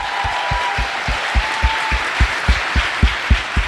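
An audience claps for a mayor in a large venue, a broad wash of applause with steady rhythmic clapping, moderately loud and without talking.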